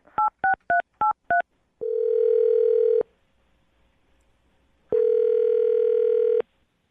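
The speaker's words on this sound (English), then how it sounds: "I'm going to dial his phone number right now" A telephone number is dialed: five quick keypad tones in a steady rhythm, followed by two long, loud ringback tones separated by a pause, all clear with no talk.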